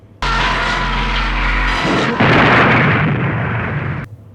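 A car blows up in a film after crashing into a tree, a loud, sustained explosive roar that lasts about four seconds before cutting off abruptly.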